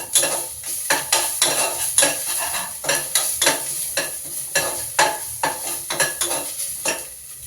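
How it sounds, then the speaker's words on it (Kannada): Ginger garlic paste sizzles in a hot pan in a home kitchen while a spoon scrapes and stirs it in steady, close rhythmic strokes, with no talking. "ಸೊ ಇವಾಗ ನಾನು ಈ ಶುಂಠಿ ಬೆಳ್ಳುಳ್ಳಿ ಪೇಸ್ಟ್ನ ಆ್ಯಡ್ ಮಾಡ್ತಾಯಿದ್ದೀನಿ. ಸ್ವಲ್ಪ ವಾಸನೆ ಹೋಗೋ ತನಕ ಫ್ರೈ ಮಾಡಬೇಕು."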